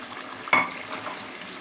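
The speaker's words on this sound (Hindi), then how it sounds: "अच्छी तरीके से मैं इसको 2 से 3 मिनट तक मिक्स करूँगी और भूनूंगी।" Peas and mutton stir-fry in a pan for a curry, a low steady sizzle with one sharp scrape of the spoon against the pan, close and alone.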